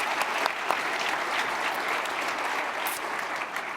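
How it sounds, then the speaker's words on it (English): Audience applause at a tech conference talk on Angular Elements and React components, a loud continuous patter of many hands clapping throughout, with no speech over it. "Let's give him a clap, yeah."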